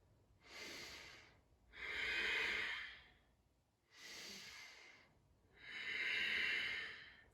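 Slow, deep breathing during a yoga low lunge, with four long breaths alternating between softer inhales and fuller, rushing exhales. Each lasts about a second or two and sounds close and clear with no talking.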